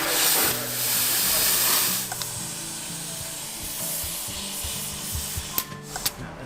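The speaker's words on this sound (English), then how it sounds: "Then we'll just let the air out, break the bead at one point" Air rushes out of a tubeless Pirelli road bike tyre on a Cervélo Caledonia in a workshop, a loud close hiss for about two seconds that then fades into softer rubbing and handling noises with a few small knocks.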